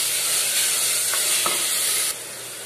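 Onions and curry leaves sautéing in hot oil for a chicken curry, a steady close sizzle with a couple of soft stirring clicks, dropping quieter near the end.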